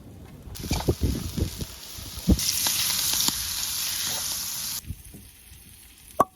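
Steak fries in a pan inside a camper van in Portugal, a loud close sizzle that rises suddenly, holds for several seconds with utensil clatter and knocks, then drops away abruptly before a final sharp clank.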